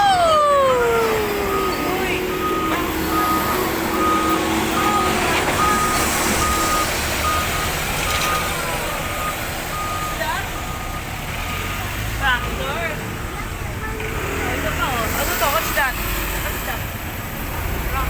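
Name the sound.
truck on highway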